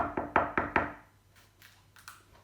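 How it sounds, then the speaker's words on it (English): Five quick, sharp knocks rap on a door in a brisk rhythm, loud and close, followed by faint softer taps and quiet room noise. "But then he hears a knock at the door."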